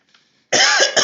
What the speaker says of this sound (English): I'm about to start coughing